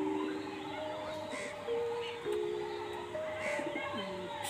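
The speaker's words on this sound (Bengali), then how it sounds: "আরও পায়রা দেখাবো আপনাদেরকে।" White Jiria pigeons coo softly at a loft in Bauria at dusk, several repeated low murmuring calls overlapping with faint chirps in the background.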